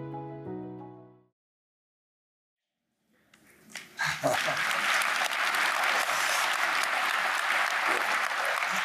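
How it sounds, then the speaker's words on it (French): Audience applause at a live family discovery day session, starting after a short musical tone and a pause, then swelling into loud, sustained clapping that fills the rest of the clip. "You don't have to clap for that."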